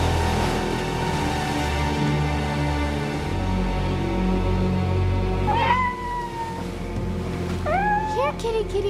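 A cat meowing in a few rising cries toward the end, over background music and a person calling out to it.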